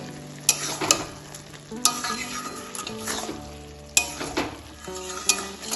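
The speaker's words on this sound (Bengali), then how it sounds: "এবার সব কিছু আবার ভালোভাবে মিশিয়ে নেব" Cabbage and prawn curry stirred in a sizzling pan, loud scraping strokes of a spatula against metal recurring every second or so over a continuous frying hiss.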